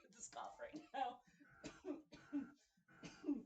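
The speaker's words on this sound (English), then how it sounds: "I'm absolutely dying with this cough right now" A man gives several rough coughs and throat-clearing bursts, spaced roughly half a second to a second apart, close and fairly quiet, with no other sound around them.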